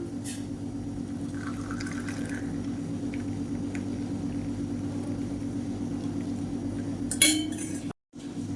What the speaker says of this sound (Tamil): இப்போ பாருங்கள் நல்லா வத்திருச்சு நம்ம வடிகட்டிக்கலாம்